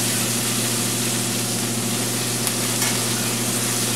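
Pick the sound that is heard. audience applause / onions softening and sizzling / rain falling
onions softening and sizzling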